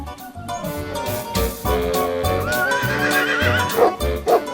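A horse whinnies over a dense, busy musical backing in a children's nature cartoon, the high wavering neigh rising near the end and fading.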